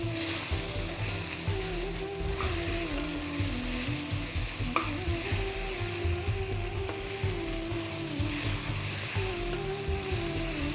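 Grated raw mango frying in a ghee tempering, a steady dense sizzle with occasional stirring scrapes and clinks, close and continuous with no voices.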